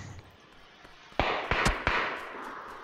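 Gunfire in the video game PUBG: three sharp shots spaced roughly a third of a second apart, each with a short echoing tail, over faint background noise.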